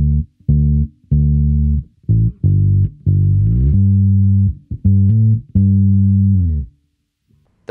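Electric bass with a very dark, muffled tone plays a rhythmic line of short and sustained low notes with brief gaps between them, close and loud, with no voices.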